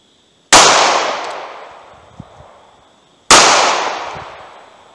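An NAA Mini revolver fires CCI Maxi Mag 40 grain .22 Magnum rounds, giving two sharp, loud cracks about three seconds apart, each trailing off in a long echoing decay.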